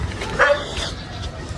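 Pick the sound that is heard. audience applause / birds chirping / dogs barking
dogs barking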